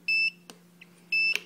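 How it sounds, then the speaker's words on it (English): Two short, high electronic beeps about a second apart, a low-battery warning from a Turnigy 9X radio transmitter, with faint clicks between them over a quiet background hum. "Excuse the beeping, but the battery is actually running low"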